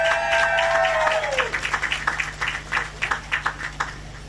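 Audience at an outdoor heritage marker ceremony claps, a scattered, uneven patter of hands that grows after a fading tone at the start and continues in irregular bursts, with faint voices underneath.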